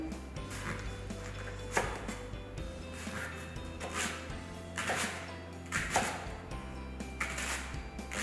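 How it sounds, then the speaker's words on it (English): A knife slices through leeks on a cutting board for a vegan cauliflower fennel bisque, with several soft crisp chops spaced irregularly, quiet and close. "So we're just going to slice up our leeks."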